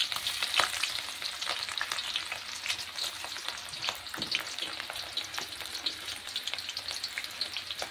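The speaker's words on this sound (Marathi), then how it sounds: "कांदा छान प्रकारे असा लाल होऊ द्यायचा." Chopped onion sizzling and frying in hot oil in a pan while hair oil is being prepared, a steady crackling sizzle with occasional stirring clinks, close and fairly quiet.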